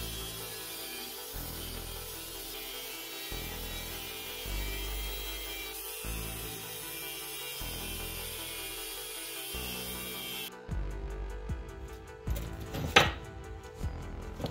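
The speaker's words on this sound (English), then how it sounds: "We're gonna cut it out with the angle grinder and shape it up." An angle grinder cuts a small neck knife blank from a piece of steel in repeated bursts of whining, rasping grinding, followed by louder clattering handling and a sharp metallic hit near the end.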